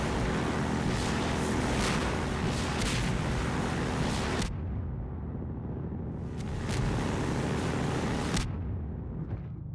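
An airboat from Half-Life 2 drives ahead with a loud, continuous roar of engine and hull over water, briefly dropping away mid-stretch before surging back at full strength, with no talking.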